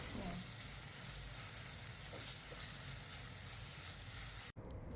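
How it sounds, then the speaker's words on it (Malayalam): Sliced onion, ginger and garlic sauté in oil in a pan for crab roast, a steady close sizzle with a few faint stirring scrapes, cutting off abruptly near the end. "ഈ സവോളയും അതുപോലെ ഇഞ്ചിയും വെളുത്തുള്ളിയും അതെല്ലാം ഒന്ന് നന്നായിട്ട് വഴണ്ട് വരണം"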